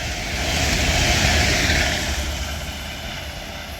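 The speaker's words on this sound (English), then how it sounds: "Now passing through is another Avanti West Coast Pendolino." An Avanti West Coast Pendolino passes through Lichfield Trent Valley station with a broad roar that swells over the first second or so and then slowly fades, close and loud with no talking.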